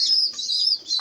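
Pigeons give a brief close, steady high chirping while eating, one adult feeding its chicks, with no talking.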